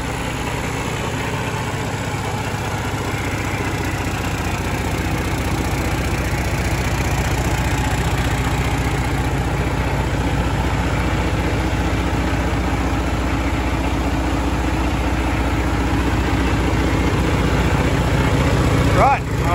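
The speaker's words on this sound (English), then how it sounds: "They're a very quiet engine for a 16-litre motor." A 16-litre FPT Cursor 16 diesel truck engine idles at about 600 RPM, a steady, loud, low throbbing rumble with constant vibration that runs unbroken throughout, close to the microphone.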